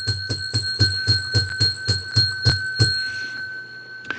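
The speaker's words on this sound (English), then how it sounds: "Let's ring the bell 10 times." A small bell is struck about ten times in steady succession, bright, ringing and close, and the last strike rings out into a decaying sustain with no voices.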